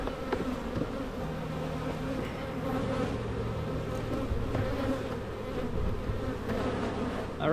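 Honey bees swarm around an open hive during a mid-May inspection, their dense buzzing a steady, close drone that never lets up.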